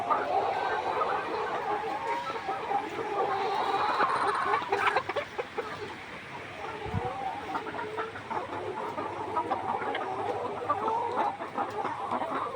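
A flock of 147-day-old laying hens cluck and murmur continuously through the clip, busy and close by, with a brief low thump partway through.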